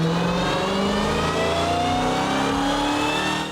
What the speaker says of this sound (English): the intoxicating sounds of a supercharged Hemi